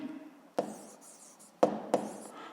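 Pen or chalk strokes tap and scrape while notes are written during a physics lesson, in three short distinct bursts, close and fairly quiet.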